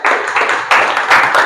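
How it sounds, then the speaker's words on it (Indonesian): Brief bursts of close, fairly loud clapping from a classroom audience of teachers applauding a presenting group, uneven with short pauses between flurries. "beri tepuk tangan"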